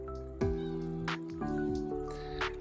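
A cat perched on a pickup truck at a farm gives a few clear, close meows in quick succession, with light tapping in the background.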